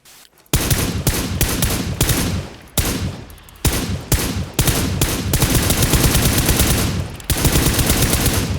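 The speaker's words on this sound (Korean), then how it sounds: "막 쏘는 거." Gunfire in the PUBG battle royale video game comes as loud, rapid automatic bursts broken by brief pauses, with sustained sprays of shots in the later part and no talk.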